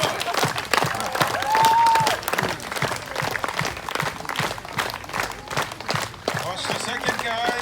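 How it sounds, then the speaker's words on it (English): Audience clapping at an outdoor show at the Polynesian Cultural Center in Oahu, Hawaii, as tree climbers scale a palm tree; irregular claps and crowd noise run alongside an announcer's voice and scattered cheers throughout. "Oh yes, keep clapping"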